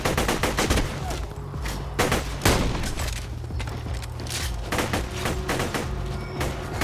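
Dense, loud bursts of video-game gunfire in Borderlands 2 as a player shoots at birds, sharp rapid shots crowding together in volleys over a steady low background hum.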